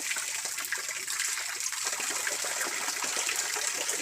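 Spring water from a mountain source flows and trickles continuously, a steady moderate splashing stream with no voices.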